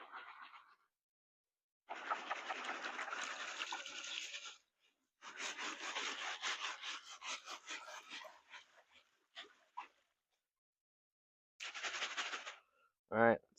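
Wet sediment sifted through a screen in water while hunting for shark teeth, heard as bursts of close gritty scraping and sloshing separated by quiet pauses, ending with a short thump.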